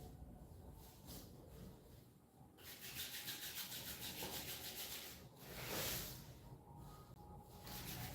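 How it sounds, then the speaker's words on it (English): Palms rubbed together in a yoga class to warm the hands, a soft, close friction swish that swells in a few separate bursts, quiet and without speech. "you can rub your hands again and again to give the warmth to different body parts"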